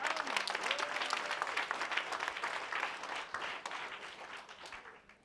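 An audience applauds steadily, a dense wash of many hands clapping at once, gradually fading toward the end.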